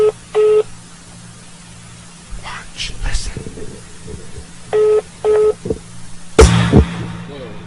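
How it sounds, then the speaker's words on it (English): Telephone on hold giving off short, loud electronic beep tones in regular pairs, repeating twice a few seconds apart, with someone speaking briefly between them and a handling thump near the end. "Can you hear it beeping?"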